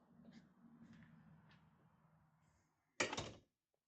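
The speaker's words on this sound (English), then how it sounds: "I always have to open my door because I don't get service" A door is opened after a few quiet knocks and a low murmur, ending in a single loud, sharp thunk and rattle close by.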